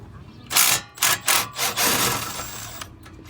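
Power tool loosening the 17 mm brake caliper bracket bolts on a 2012 Kia Forte, several short close whirring bursts followed by a longer steady run that fades out.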